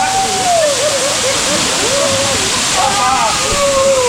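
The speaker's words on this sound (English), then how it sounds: "Sheldrick Waterfall." Sheldrick Waterfall in the Shimba Hills of Kenya pours in a steady, loud broadband rush of falling water, with a person speaking over the roar throughout.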